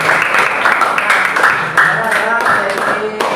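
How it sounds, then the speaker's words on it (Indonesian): Audience applause in a classroom-style session, a dense burst of clapping from a group that carries on steadily for several seconds with a little chatter mixed in. "Oke, tepuk tangan dulu."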